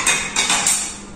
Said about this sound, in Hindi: ये जल्दी से बर्तन पहले से धो लेते हैं